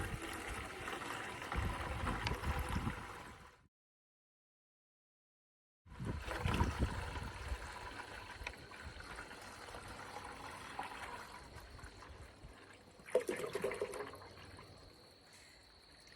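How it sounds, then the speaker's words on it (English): A gallon of water being poured into a bucket, a steady trickling and splashing stream that stops briefly and then resumes, fairly faint with a soft background hiss and no talk. "I'm going to go ahead and put the water in first."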